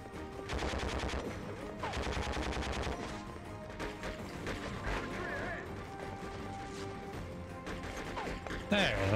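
Gunfire during a street battle in Conflict: Desert Storm 2, with rapid bursts of automatic weapons, scattered single shots and crashing impacts at varying distances, and a sharp loud blast near the end.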